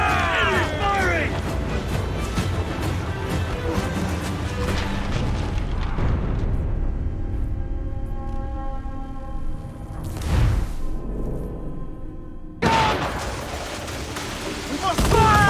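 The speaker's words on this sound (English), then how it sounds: "They are firing, sir. It is firing." Cannon fire during a naval battle in Assassin's Creed IV Black Flag: heavy booms and rumbling blasts under game music and shouting crew voices, with a loud burst late on.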